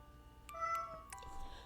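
Cat meow sound effect in a bedtime story reading of Alice in Wonderland: a clear, tonal meow heard alone and up close, moderately loud over faint background.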